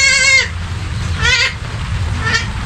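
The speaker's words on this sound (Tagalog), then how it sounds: "ito po yung kambing nyo." Goats bleating close by, three loud wavering calls spaced about a second apart over a low background rumble.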